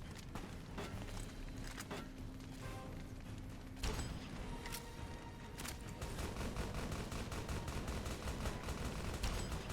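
Weapon fire in Fallout New Vegas, repeated shots in irregular bursts over a busy background of game noise, moderately loud with a few sharper cracks.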